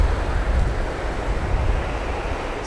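Wind and surf roll across West Sands beach at St Andrews, Scotland, as a dense, continuous low roar with constant buffeting and no voices.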